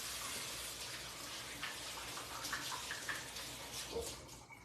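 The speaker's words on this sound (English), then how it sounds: "Let me wash my hands real quick though." Hands washed under a running kitchen tap: a steady, fairly quiet stream of water hissing into a sink, with small splashy changes as the hands move through it, and no talking.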